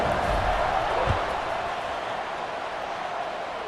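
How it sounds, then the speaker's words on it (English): A stadium crowd buzzes in the College Football 26 video game at a Hawaii vs Kansas State matchup, a broad steady roar that fades slightly, with a brief thump near the start. "this crowd is buzzing after that last score"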